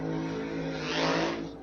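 D.J. Cox's drag racing car at Pomona holds a brief, steady engine drone with a rich, tonal hum that swells slightly before fading.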